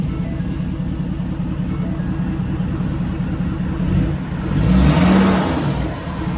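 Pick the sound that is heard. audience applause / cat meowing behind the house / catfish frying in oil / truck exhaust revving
truck exhaust revving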